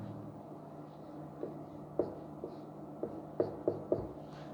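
Writing on a board during a lecture on continuous functions: faint, scattered taps and scratchy strokes in short irregular bursts over a low steady room hum, with no voices.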